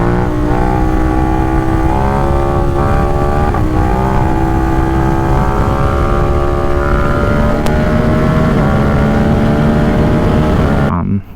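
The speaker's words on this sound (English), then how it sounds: "enjoy getting to ride the bike, enjoy the sound of the exhaust" Ducati Supersport 950 S motorcycle exhaust while riding through downtown, a loud continuous engine drone with gradually rising pitch, close and steady, cutting off at the end.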